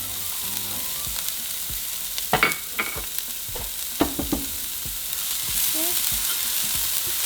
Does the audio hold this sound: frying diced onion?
yes